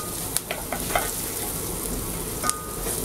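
Garlic sizzles steadily in a hot pan at the start of a tomato soup, a continuous frying hiss with a few small pops and stirring clicks, close and alone.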